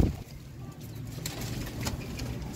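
Pigeons kept for sale coo softly and intermittently at close range, their low calls mixed with a busy background rustle and a few faint clicks.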